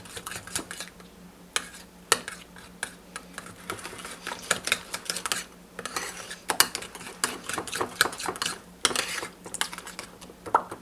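Whisk or spoon stirring coleslaw dressing in a bowl, giving quick irregular clinks and taps against the bowl, close and moderately loud, with no talking.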